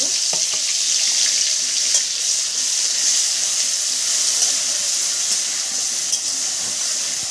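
Onion paste sizzles steadily in a hot wok, a dense, even frying hiss that runs throughout with occasional small pops and spoon clinks, close and alone.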